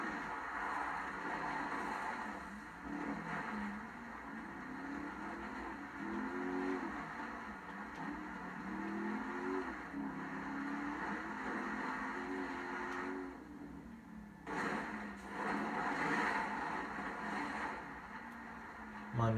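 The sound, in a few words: 5-liter V8 engine of armored Gallivanter Baller LE SUV, video game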